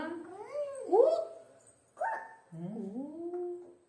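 A 1.3-year-old toddler's voice imitates a dog barking, making three short yipping, whimpering bursts close to the listener, in a quiet room.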